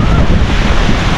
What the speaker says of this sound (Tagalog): May bagyo na yata. Lakas ng hangin.